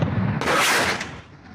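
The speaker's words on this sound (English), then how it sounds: "We ran, but the Syrian batteries kept firing." Syrian artillery batteries fire near Deir ez-Zor, a single heavy, close blast bursting loudly and then rolling off into a long fading rumble, with no voices.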